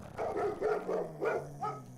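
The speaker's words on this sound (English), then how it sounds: "The mean dogs quickly surrounded him and barked madly." Dogs bark fiercely in a quick run of about five close, loud barks, one after another, with no voices.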